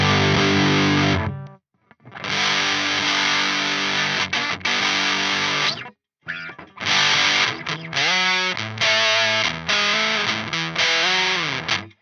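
Electric guitar played through a Reeves Darlington Flyer fuzz pedal on the narrow gauge setting into the middle pickup, thick saturated chords and sustained fuzzy riffs with brief pauses, loud and close with no voices.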